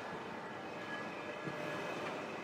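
Steady, even rumble of a train running from Paris to Cannes, near Toulon, with a constant low roar and faint rail noise throughout; no voices.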